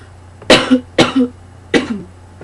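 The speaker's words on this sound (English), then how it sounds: "sorry, I still got a cough" Three sharp coughs from a smoker close by, the first two in quick succession and the third after a short pause.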